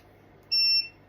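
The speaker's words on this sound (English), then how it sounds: "Yeah, we have a beep." A multimeter set to continuity mode gives one short, clean electronic beep while testing a computer power supply, quiet and alone against a faint hum.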